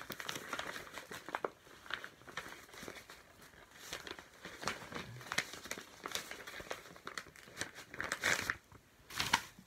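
A parcel holding a video game being unwrapped, with close crinkling and crumpling of packaging, some tearing and rustling, fairly quiet and irregular throughout.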